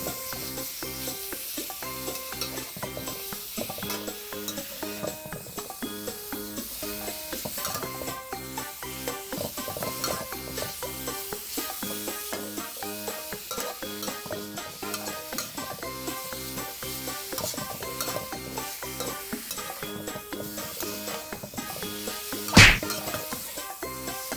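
Pork belly stir-frying in sauce in a pan, a steady sizzle under repeated rhythmic scraping and stirring strokes from a utensil, with one sharp loud knock near the end.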